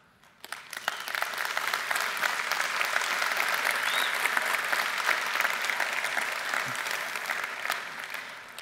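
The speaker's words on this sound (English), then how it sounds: "All these people clapping" An audience claps together during a sermon-style message, applause swelling quickly from quiet into a dense, sustained roar of hands that holds for several seconds and then eases slightly.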